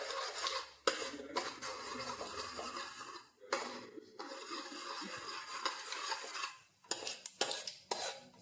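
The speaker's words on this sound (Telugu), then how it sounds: "ఇప్పుడు మనం పెద్ద స్పూన్లో మిక్స్ చేసుకోవాలి మంచిగా" A big spoon stirs idli fry in a metal pan, clanking and scraping loudly in bursts with short pauses between strokes, close and without talk.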